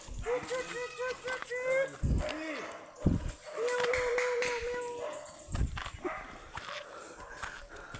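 Dogs bark repeatedly at close range amid people talking, with clattering hoofbeat-like thuds and outdoor background noise.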